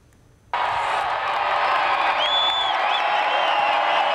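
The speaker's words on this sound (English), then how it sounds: "A standing ovation from the McHale Center crowd following a one-game absence" Arena crowd at the McHale Center rising into a standing ovation, a sudden, loud, sustained roar of cheering and applause with whistles piercing through, filling the space after a brief quiet start.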